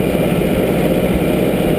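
A Farmall tractor engine runs at a steady idle-like chug, a continuous close mechanical drone with no voices over it.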